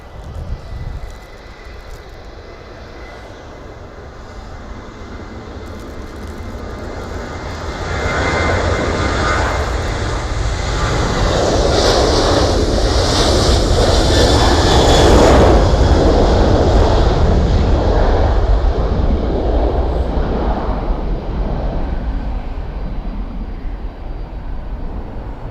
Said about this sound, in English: let's follow this departure for Ryanair